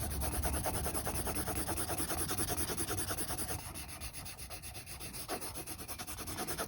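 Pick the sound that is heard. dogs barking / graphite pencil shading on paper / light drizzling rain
graphite pencil shading on paper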